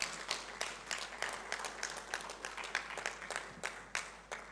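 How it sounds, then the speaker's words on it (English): Scattered applause rises from delegates at a conference launch event, sparse and fairly quiet, with individual claps standing out in an uneven rhythm. "give a round of applause for all our speakers"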